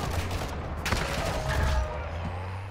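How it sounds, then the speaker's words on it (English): Gunfire bursts crackle through a Call of Duty: Modern Warfare II DMZ match, steady and fairly dense across the short stretch, with a sharper crack near the middle and faint voices underneath. "We're getting shot up."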